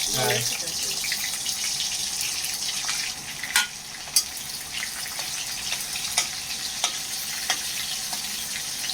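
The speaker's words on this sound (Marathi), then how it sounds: "असं व्यवस्थितपणे तेल घालून फोडणी मारायला लागल्या दीपू" Hot oil sizzles in a pan as spices are tempered for misal pav, a steady close frying hiss with a few sharp spatters and clinks, with voices talking over it.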